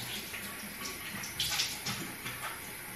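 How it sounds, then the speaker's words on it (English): Water splashes as someone cups it from a running sink onto their face, a steady close wash of flowing water with a few brief louder splashes. "now I'm going to splash a little bit of water on my face."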